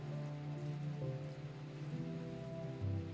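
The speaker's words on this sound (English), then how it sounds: "An enormous amount of rain falls upon this mountain." Steady rain pours over a karst mountain in the humid Gorski Kotar region of Croatia, a continuous even wash beneath a low sustained musical drone, with no voices.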